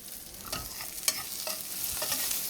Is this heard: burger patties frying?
yes